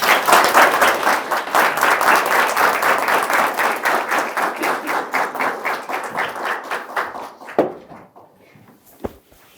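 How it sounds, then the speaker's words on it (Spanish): Audience applause at a dentistry faculty research seminar, loud and dense at first, then thinning into slower individual claps that taper off into near silence with a couple of stray sounds. "Les pido un aplauso."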